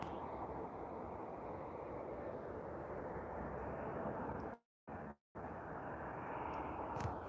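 A Central Mountain Air Beech 1900D turboprop arrives at Vancouver International Airport, heard as a steady, distant engine rumble with two brief dropouts near the end.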